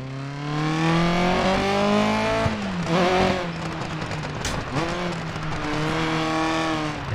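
Rally car drifting on asphalt in the racing game Dirt Rally 2.0, a loud steady engine drone with gear shifts and rev changes around the middle, and tire squeal as the car slides through corners.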